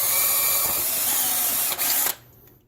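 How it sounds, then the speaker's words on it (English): A power drill bores steadily through a plastic UCO oil insert, a continuous close whine that cuts off abruptly near the end, with no talking. "So I'm just going to continue to drill into it."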